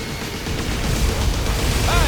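Particle cannon superweapon firing in C&C Generals Zero Hour, a sustained loud rumbling blast with crackling bursts that builds over about two seconds, with a sweeping whine near the end and no speech.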